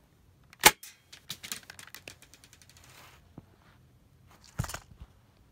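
Pistol shots in a small-scale scene, one sharp loud crack followed by a rapid series of lighter snapping pops that trail off, then another sharp shot near the end, heard alone and close.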